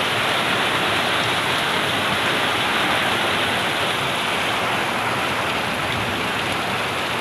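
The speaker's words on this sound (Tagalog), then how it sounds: "Lakas ng ulan. Di ba? Ang lakas-lakas. Saka may hangin pa, parang may bagyo." Heavy rain with wind pours down steadily in a dense, continuous roar, loud and unbroken, with a backyard where chickens are kept as the setting; no talk is heard.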